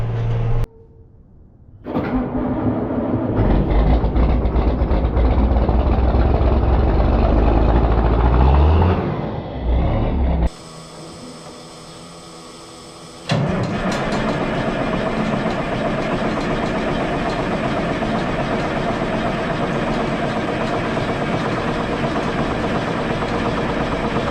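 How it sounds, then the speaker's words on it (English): A tractor works ground in a field, its engine a steady low drone heard from close by. The drone cuts out briefly twice and then settles back to a constant hum, with no talking. "Okay, so I'm finally in a tractor, working ground."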